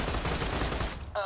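Rapid, dense machine gun fire in Borderlands 2, a continuous close burst that cuts off just before a voice comes in at the very end.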